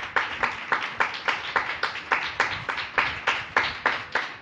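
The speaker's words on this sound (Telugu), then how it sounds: "కొట్టు చప్పట్లు, గట్టిగా కొట్టు" A church congregation clapping hands in a steady, rhythmic beat, about three claps per second, each a sharp crisp burst from many hands together, moderately loud and sustained throughout.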